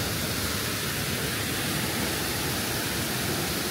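Waterfalls at Fervença cascade with a steady, even roar of rushing water. The wash of sound is close and unbroken, with no voices over it.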